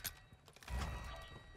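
Reloading the Sakin MG38 machine gun in the video game Modern Warfare 2, a short sequence of metallic clicks and clacks with a heavier thunk of the mechanism seating, close and alone.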